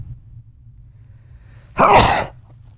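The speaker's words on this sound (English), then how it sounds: "Sneeze coming." A single loud, close sneeze bursts out after a stretch of quiet room hum, sharp and wet-sounding, then fades quickly.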